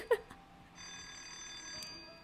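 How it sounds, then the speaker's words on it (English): A phone rings with a brief electronic chirp, followed by a faint, sustained tonal ring over a quiet room. "Oh, it's his phone."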